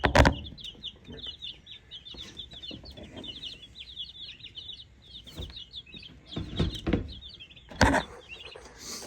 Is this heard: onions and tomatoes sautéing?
no